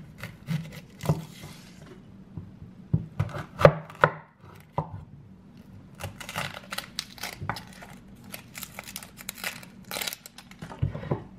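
A knife chops an onion into small pieces on a board in a home kitchen, with rapid close taps in uneven bursts and short pauses, each stroke crisp and distinct, and no talking.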